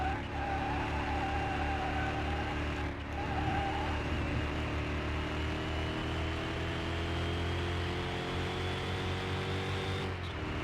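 A car in Car Mechanic Simulator 2021 drives with a steady, droning engine hum, its tones slowly rising and falling, continuous and close with no talking.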